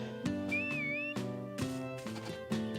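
Whistle sound from the farming video game Harvest Moon: A Wonderful Life, a clear, bending tone that rises and falls briefly over chiming game music with plucked notes.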